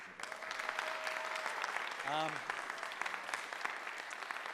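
A crowd at a marching band parade invitational ceremony in London gives a round of applause, dense continuous clapping with cheering and a brief whoop or whistle rising midway, voices mixed in.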